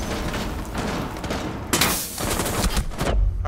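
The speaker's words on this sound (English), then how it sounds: "Oh crap, they're shooting at me." Gunfire in the Rainbow Six Siege video game, on the Kanal map in a Team Deathmatch Secure Area match, rattles in dense, rapid bursts with a sharp cluster of close shots midway and more firing toward the end.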